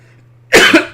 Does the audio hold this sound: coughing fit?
yes